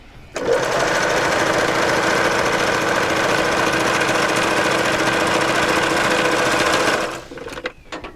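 A vintage Singer Touch and Sew sewing machine stitches at a fast, steady, rattling whir for about six seconds, close up and loud, then stops with a few clicks.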